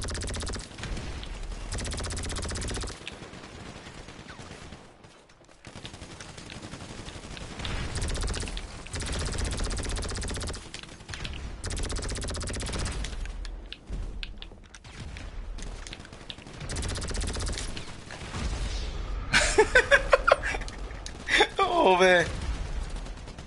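Rapid bursts of gunfire from a new space alien weapon in GTA Online Arena War, repeated volleys separated by short pauses, close and loud, with voices talking over and between the shots.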